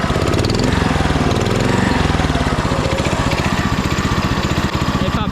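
Small diesel engine of a Japanese mini excavator that had sat unused for years, idling close by with a loud, steady rapid chugging and clatter that runs continuously.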